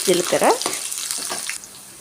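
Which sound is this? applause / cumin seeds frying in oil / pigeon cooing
cumin seeds frying in oil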